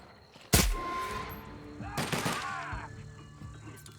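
Sci-fi gunfire from The Outer Worlds video game: a sharp close burst of shots at the start, then a second flurry of rapid shots with a ringing tail, fading into echoing ambience.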